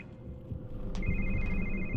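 A telephone rings inside a room in The Evil Within survival horror game, its steady electronic ring starting partway through and repeating evenly over a low, murky ambient background.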